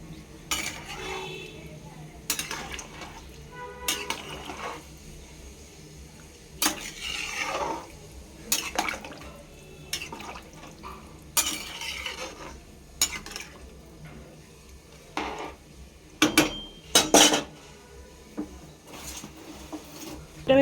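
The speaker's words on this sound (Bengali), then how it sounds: "আমি জলটা অ্যাড করে দিলাম। এবার ভালো করে নেড়ে নেবো।" Vegetable taheri is stirred in a pot after water is added, giving intermittent scraping and clinking of a spoon against the metal pot, with faint bubbling between strokes and a few louder knocks toward the end.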